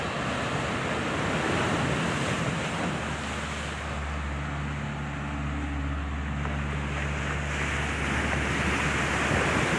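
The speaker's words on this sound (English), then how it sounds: "Big wave." Ocean waves break and wash continuously on a beach at Isla Colón, Bocas del Toro, Panama, a loud steady roar of surf with wind buffeting the microphone throughout.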